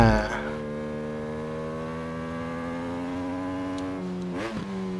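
A Honda VTR1000R motorcycle engine in the RIDE 4 racing game holds a steady, high-pitched rev as the throttle stays open on a straight, then the pitch briefly dips and wavers near the end during a gear change.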